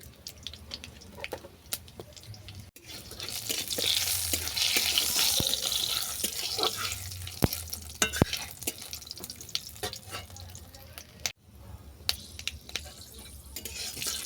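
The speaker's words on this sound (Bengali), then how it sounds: "ফোড়ন ভাজা হয়ে গেছে" Five-spice tempering with dried red chilli and bay leaf fries in a little oil in a pan, a steady soft sizzle with scattered crackles and spoon clicks throughout, and no talking.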